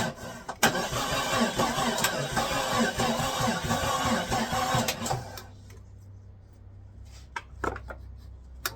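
A 1993 Jeep Cherokee engine cranks with a fast, rhythmic starter churn for about five seconds without catching, then stops, leaving a low hum and a few clicks.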